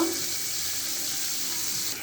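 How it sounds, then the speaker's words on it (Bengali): Chopped onion frying in oil in a wok while cooking a koi fish and potato curry, a steady broadband sizzle with faint stirring, fairly close and continuous without talk. "পেঁয়াজ কুচি দিয়ে এখন আমি ভাজা করব"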